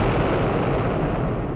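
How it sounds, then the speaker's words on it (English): A torpedo explodes underwater in the submarine game Sub Command, a dense, muffled roaring blast that fills the short moment at steady loudness. "Loud explosion on the bearing of Sierra."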